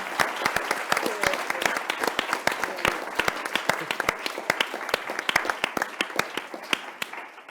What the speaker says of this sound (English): a round of applause for the respondents